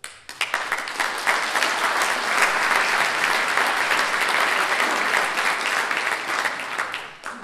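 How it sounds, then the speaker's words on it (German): An audience at an art society's anniversary celebration, part of a Long Night of the Arts in Selb, claps in sustained, even applause that lasts the whole stretch, dense and steady before tapering slightly at the end. "Nochmal einen Applaus auch von mir."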